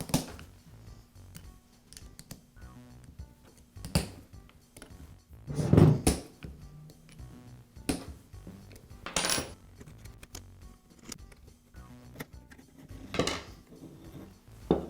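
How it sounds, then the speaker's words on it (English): The head being removed from a Bostitch pneumatic nail gun during a rebuild, sparse metallic clinks and knocks of parts and tools set down at close range, scattered among quiet gaps. "Now I'll remove the head from the nail gun."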